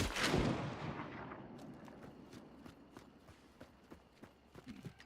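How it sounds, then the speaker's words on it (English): A shotgun slug fires once in a video game as one loud blast that decays into a reverberant tail, followed by quieter clicks and footstep-like taps. "I'm gonna shoot right at the seam"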